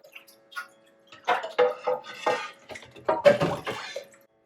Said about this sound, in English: The first thing I'm going to do is immerse both halves of my Römertopf in water.